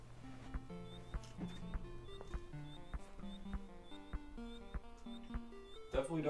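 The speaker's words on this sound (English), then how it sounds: "Listen to this beautiful intro music." Intro music from the Donkey Kong Country video game, a steady melodic synthesized tune with pulsing bass notes and a repeating higher line, moderately loud and without talk.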